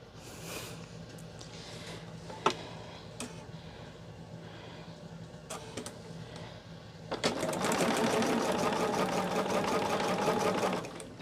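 A sewing machine stitches quilt block fabric in short bursts, then runs in a steady rapid rattle toward the end, with a few clicks and handling noises in between.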